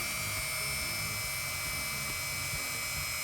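A power sanding tool works a teak yacht deck near painted edges, giving a loud, continuous whine with a steady high tone and a rough low rumble throughout, with no voices.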